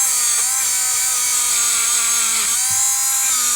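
A Ryobi rotary tool whines steadily at high speed while scrubbing crud off metal, loud and close, its pitch sagging briefly a few times under load, with no talking.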